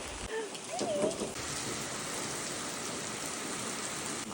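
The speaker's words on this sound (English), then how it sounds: "It's been raining non-stop for 2 days straight now." Steady rain falls outdoors in a field where horses shelter under a tree, a soft, even hiss with a few faint bird-like chirps early on.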